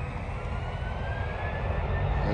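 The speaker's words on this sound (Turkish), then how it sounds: "Şimdi uçak kalkıyor." An airplane takes off near a village garden, giving a steady, broad engine roar that holds loud and even throughout with a faint rising whine above it.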